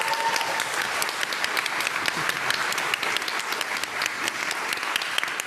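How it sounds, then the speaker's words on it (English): Dense audience applause for social prescribing link workers at a show, continuous bright clapping from many hands at a steady level throughout, with a brief murmur at the start. "I think it would be wrong if we don't give them a round of applause"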